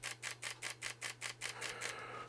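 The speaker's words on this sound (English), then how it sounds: "So this is 5 frames per second with a mechanical shutter." Fujifilm camera's mechanical shutter firing in continuous burst mode at 5 frames per second, about nine crisp evenly spaced clicks in quick succession, close and alone over a faint low hum.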